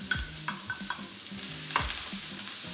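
Onion sautéing in hot vegetable oil in a preheated pan, a steady sizzle broken by several sharp scrapes and knocks of a spoon stirring the pieces, close and with no voices.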